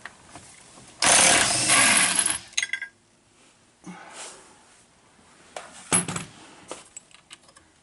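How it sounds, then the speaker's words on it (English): Impact wrench taking off the steering wheel of a 1960s/70s Mercedes-Benz (W108/109), one loud broadband burst of roughly a second and a half, then scattered clinks and rattles of tools and parts nearby. "I like a good old trusty impact wrench"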